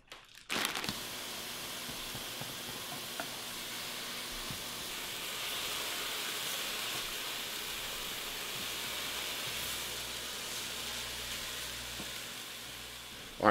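Turkey frying in a pan gives a steady, close sizzle and hiss that holds evenly throughout, with a brief clatter at the start and no voices.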